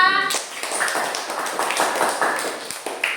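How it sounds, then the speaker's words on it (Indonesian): A short burst of hand clapping from a small group in a classroom, fairly close, with scattered uneven claps. "berikan tepuk tangan untuk teman kita"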